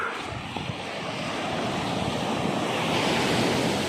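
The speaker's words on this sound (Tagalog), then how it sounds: "napakalakas naman ng alon" Ocean waves crash and roar continuously at a beach in Bacon, Sorsogon, loud and close, with wind rumbling across the microphone and the surf swelling toward the end.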